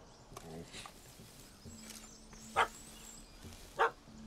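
A dog barks twice in The Witcher 3: Hearts of Stone, two short sharp barks a second or so apart over quiet game ambience.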